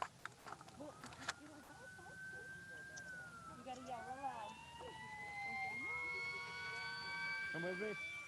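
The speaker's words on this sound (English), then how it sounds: "I think I heard some sirens in the distance" Distant emergency sirens wail and rise and fall at a key ceremony for a military home, faint at first and growing slightly louder, under people talking nearby with birds in the background.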